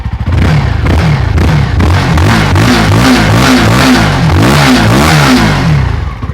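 A CFMoto 250 SR motorcycle engine revs repeatedly, up close and loud, with quick throttle blips rising and falling in a rhythmic pattern.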